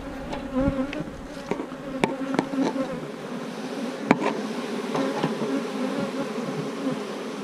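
Honeybees buzz around an open hive on a sunny day, a dense, continuous hum with individual bees droning close past, loud and steady, with no voices.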